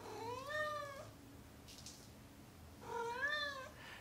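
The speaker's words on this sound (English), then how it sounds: "The cats will sit outside the cage looking in and start meowing and crying" Two drawn-out cat meows, one at the start and one near the end, separated by a quiet pause with faint background noise.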